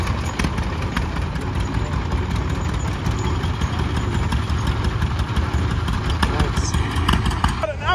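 Crawler tractor engine chugging at a steady idle at a tractor festival, a continuous low rumbling drone with outdoor crowd noise and people talking over it.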